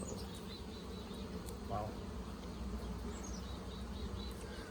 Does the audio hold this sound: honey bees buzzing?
yes